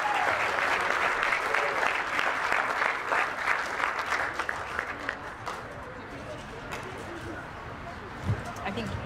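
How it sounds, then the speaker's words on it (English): Audience applause at the 2021 Chi Chi Charity Classic golf event, a dense, steady round of clapping from a crowd lasting several seconds before gradually thinning out. "So give him a round of applause."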